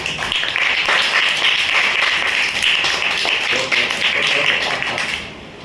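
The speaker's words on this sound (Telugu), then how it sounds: "క్లాప్స్ కొట్టండి" A group of children clap their hands together in a dense, sustained burst of applause-like patter, fairly close and loud, fading slightly at the end.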